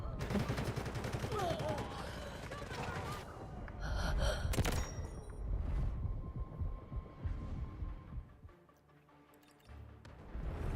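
Rapid bursts of gunfire and booming blasts in the shooter game Delta Force rumble continuously, loud and dense, then thin out into a quieter lull near the end.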